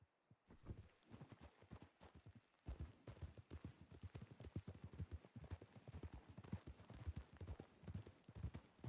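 Horse hooves clip-clop in a brisk, steady rhythm, close and clear, with a few softer thuds and no talking, in the video game Red Dead Redemption 2.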